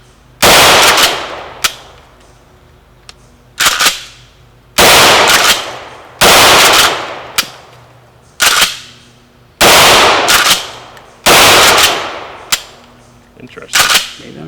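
A 12 gauge shotgun fires a tube of mini shot shells, roughly eight loud, close blasts in an uneven rhythm, each followed by a short decay and the clack of the action being racked between shots.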